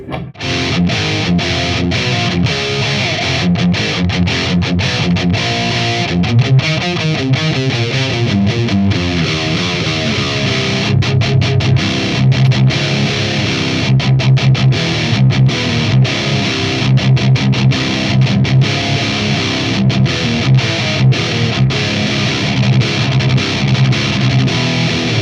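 Electric guitar driven through a Maxon overdrive pedal into a Hughes & Kettner Tube 100 amp, playing a steady stream of distorted chords and riffs, loud and dense throughout with no talk.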